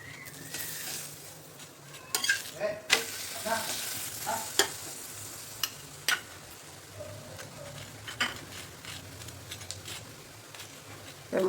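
Chickpea thalipeeth sizzling in butter on a pan, a steady soft crackle close by with scattered clicks and scrapes of a spatula, no voices over it.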